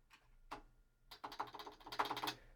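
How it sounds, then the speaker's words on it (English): Quick keystrokes on a computer keyboard while a Linux search command is typed, a couple of isolated clicks followed by a dense run of rapid taps, close and clear. "So I will go in here and type in apt search Game Boy"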